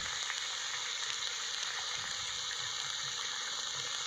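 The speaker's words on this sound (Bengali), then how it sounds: "ভালো করে আমি আবার একটু কষিয়ে নেব" Spices sautéing in a pan for neem leaf curry, a steady close hiss of hot oil frying that runs evenly throughout with faint scraping, no talk.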